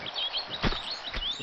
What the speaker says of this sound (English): There's rats that sound like birds.